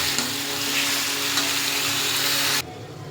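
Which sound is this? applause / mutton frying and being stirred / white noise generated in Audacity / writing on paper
mutton frying and being stirred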